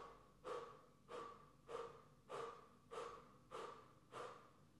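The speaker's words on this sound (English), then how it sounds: "through rounded lips, breathing through the middle of the mouth, you'll exhale 8 strokes" Eight sharp exhale strokes through rounded lips in Kundalini breathwork, evenly spaced rhythmic puffs of breath roughly every half second, close and fairly quiet with no talking.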